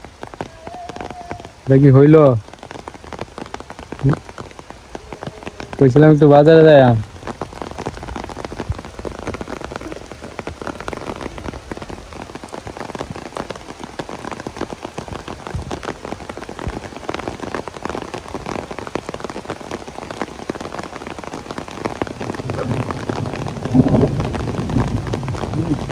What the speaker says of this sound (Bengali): শুরু হয়ে গেছে বৃষ্টি